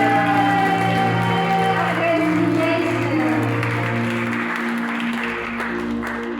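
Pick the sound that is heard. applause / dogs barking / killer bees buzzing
applause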